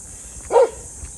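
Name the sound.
dog barking in Hiroshima park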